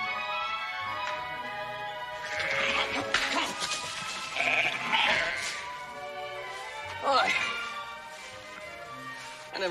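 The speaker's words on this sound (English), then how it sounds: "I never knew a couple dozen sheep could be so ornery" A flock of a couple dozen ornery sheep bleats repeatedly in an outdoor ranch scene from a Western, with overlapping calls spread across the clip and some voices mixed in.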